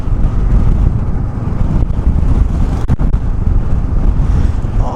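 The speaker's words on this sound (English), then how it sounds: "Oh, the wind is so heavy." Heavy wind roars steadily at a beach on the way from Rameswaram to Dhanushkodi, buffeting the microphone with a loud, constant broadband rush and a couple of brief gust dropouts.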